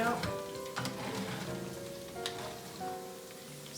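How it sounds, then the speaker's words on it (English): Bacon strips fry in a pan with a continuous crackling sizzle, close and moderately loud, with faint tonal sounds running beneath the spitting. "See, it's cooking along there. It's not quite done."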